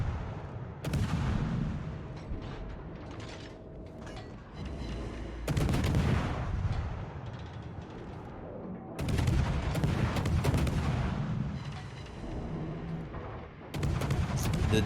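Heavy naval guns of a cruiser in World of Warships, the Atlanta, booming in repeated salvos with rumbling blasts and gunfire crackle, several loud volleys spaced a few seconds apart amid continuous battle noise.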